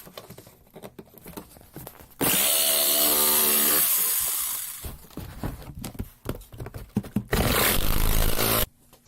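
A loud power saw roars in bursts, cutting a chest plate from armor material steadily for a few seconds, pausing amid handling clatter, then cutting again briefly.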